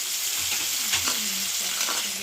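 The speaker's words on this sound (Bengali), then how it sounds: "ভালো করে নাড়াচাড়া করে নিচ্ছি।" Chopped tomato fries and is stirred in a pan, giving a loud, continuous close-up sizzle with a few soft scraping strokes of the utensil, no talking.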